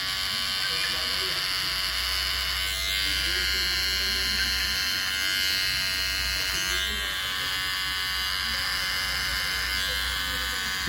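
Electric hair clipper trims the back of the head for a zero fade haircut, a close, steady buzz running throughout with slight changes in pitch as it moves across the hair.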